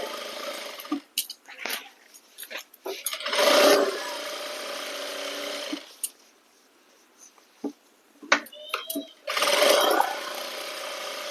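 Domestic sewing machine stitching along the edge of a salwar cuff (mohri) fabric, running in several short bursts of whirring separated by pauses and small clicks, moderately close.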